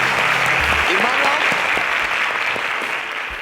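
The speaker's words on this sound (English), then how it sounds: "A round of applause for that." Audience applause fills a televised semi-final quiz show, loud and sustained clapping from the studio crowd that holds steady for several seconds before easing off slightly, with a brief murmur of voices early on.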